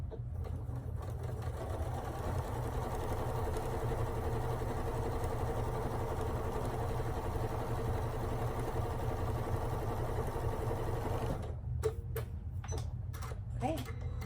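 A sewing machine stitches scrap quilt pieces together with a steady mechanical whir and rapid ticking hum that runs continuously, then stops and gives way to a few faint handling clicks.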